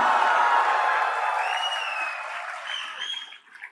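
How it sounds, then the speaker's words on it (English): A crowd at a graduation convocation applauding steadily, dense clapping that fades slightly toward the end, with a few faint whistles or cheers mixed in. "And the next big applause is for your faculty who were sitting here."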